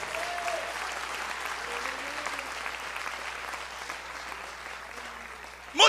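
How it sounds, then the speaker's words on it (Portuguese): A congregation in a church service applauds, a steady wash of clapping heard at moderate distance, with a brief voice rising over it at the very end. "você pode aplaudir o Senhor"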